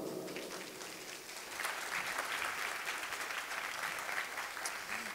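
Loud, dense audience applause fills a hall at a 2011 Left Party leader interview event in Gothenburg, swelling slightly partway through and continuing steadily without speech.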